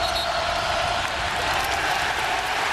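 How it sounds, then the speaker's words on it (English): A basketball arena crowd at a Pitt versus West Virginia college game roars in a dense, continuous wash of cheering and noise with no pauses. "Crowd gets a little lift."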